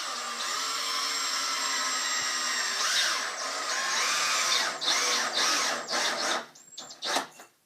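A power drill drives screws to join pieces of wood for a homemade car without a motor, a steady whirring run that rises in pitch and then breaks into short bursts and stops.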